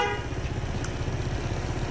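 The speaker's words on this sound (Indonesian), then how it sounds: "Dan terakhir untuk klaksonnya, ini mode ke atas, standar, mode ke bawah" Waterproof horn on a Honda ADV 160 scooter sounding in a steady tone, held continuously over an engine idle and a noisy background.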